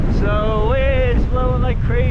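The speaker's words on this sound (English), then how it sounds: "So it's blowing like crazy here." Strong wind at Flower's Cove, Newfoundland buffets the microphone in a steady, heavy roar, with a voice talking over the gusts.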